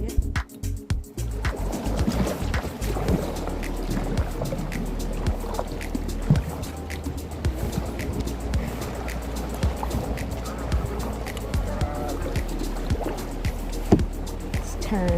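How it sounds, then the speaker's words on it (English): Kayak paddled out of a sea cave in the Channel Islands, with repeated splashes and paddle knocks over steady water wash echoing around the rock, and occasional bird calls. "Alright, paddling out of the cave, we're gonna turn a little bit."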